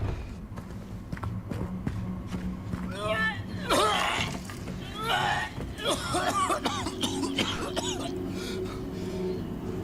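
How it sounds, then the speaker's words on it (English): Several rough, harsh coughs from a video game character burst out amid a busy ambient background with hoofbeats, footsteps and voices speaking. "hear someone coughing up a lung. Like a human being."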